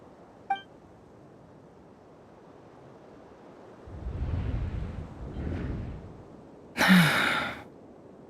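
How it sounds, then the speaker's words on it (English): Yehuda, a Genshin Impact game character, lets out a breathy gasp, heard as a soft rising inhale amid quiet airy ambience, followed by a sharper bright burst. "I heard Yehuda gasp"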